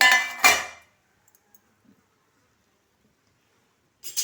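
A plate is handled during the cooking of a banana sweet: a bright ceramic clatter at the start, a few tiny knocks, then another short clatter at the end, close and loud against near silence.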